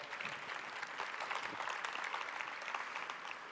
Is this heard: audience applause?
yes